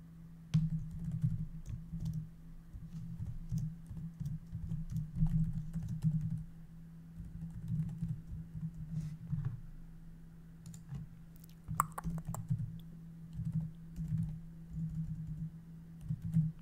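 Steady computer-keyboard typing in bursts of rapid clicks, close and fairly loud, with brief pauses and a constant low hum underneath; no one speaks.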